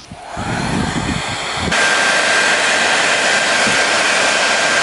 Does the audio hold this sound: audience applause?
no